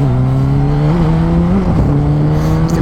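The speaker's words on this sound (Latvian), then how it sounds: "tikai paklausīties, kā šitais mocis skan" A BMW K1300S motorcycle engine runs loud and close with a steady, tonal drone, rising slightly in pitch twice as the throttle is blipped before settling back.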